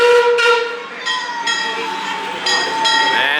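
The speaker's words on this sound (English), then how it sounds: "we're gonna ride this train" A Mardi Gras–decorated theme park train at Six Flags Fiesta Texas pulls in, sounding a loud, sustained whistle that repeats in several bursts, with voices chattering nearby.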